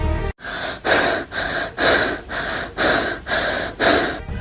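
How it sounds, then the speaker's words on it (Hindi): Heavy, rasping breaths close to a phone, used as a horror sound effect: about eight slow, loud inhale-exhale cycles in a steady rhythm after a brief silence, with no talk. "सिर्फ सांसों की आवाज"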